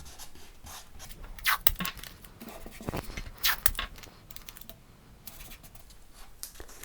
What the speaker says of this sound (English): next I'm going to put some masking tape over them all